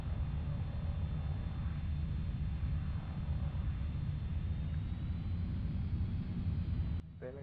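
Cessna 208 Grand Caravan turboprop in X-Plane with the propeller pulled into beta mode, a dense continuous rumbling drone holding steady before dropping off abruptly near the end.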